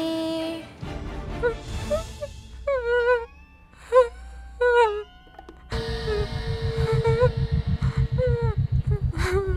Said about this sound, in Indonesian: Aku seperti mendengar suara tangisan.